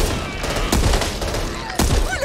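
Gunfire in the Back 4 Blood video game on Xbox Series X: two loud, sharp shots about a second apart over a busy, dense game-audio backdrop.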